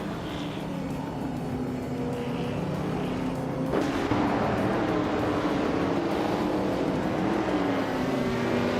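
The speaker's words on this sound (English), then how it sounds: "Abomsi is driving a Chevrolet Chevy 2 Nova SS from 1966." A 1966 Chevrolet Chevy II Nova SS race engine in a racing video game drones steadily at high revs, with a sharper surge partway through as other cars run close by.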